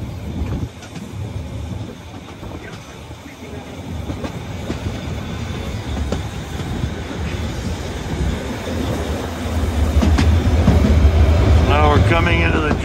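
A narrow-gauge 2-10-2T steam train runs on the Harz railway near Drei-Annen-Hohne, Germany, with a steady rolling clatter of wheels on track that grows louder toward the end, where a squeal rises.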